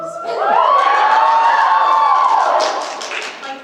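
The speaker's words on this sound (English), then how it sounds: "I'm waiting for the cheer because I know it comes." An audience at a Sigma Tau Delta convention breaks into a single loud cheer with whoops and clapping that swells quickly, holds for about two seconds, then fades.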